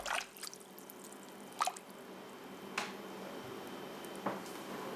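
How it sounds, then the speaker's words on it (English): Leek seeds are stirred in a container of cold water, giving a few sparse, soft watery plops and splashes spaced seconds apart over a quiet background, with no talking. "Then pour the seeds in cold water and stir."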